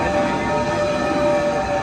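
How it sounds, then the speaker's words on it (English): A theme park train at a Florida park during a Halloween event gives off a steady, loud rumbling roar with a sustained tonal whistle-like hum running through it. "Here it is. Time for the choo-choo."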